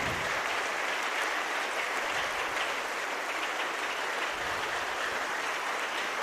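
A congregation at a Sunday church service claps hands steadily and loudly for several seconds, a dense, even wash of applause with no speech over it.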